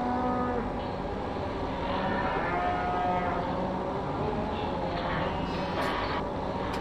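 Cattle mooing in long, low calls in Farming Simulator 17, over a steady, dense rumble of tractor engine noise, with a faint voice briefly in the background.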